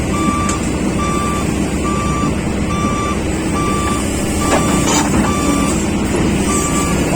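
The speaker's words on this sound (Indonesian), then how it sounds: "itu satu kendaraan dump truck sudah pergi" A dump truck's reversing alarm beeps in a steady, evenly spaced series during demolition of a flood-causing village bridge, ringing over constant outdoor engine and site rumble.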